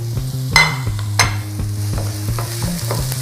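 Onions frying in a pan for Chinese noodles and sauce, with a steady sizzle under regular scraping knocks from the stirring utensil. The scrapes come close together and a couple of them stand out as sharper clatters, with no talking.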